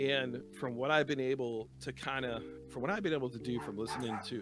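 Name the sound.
dog barking at a passing truck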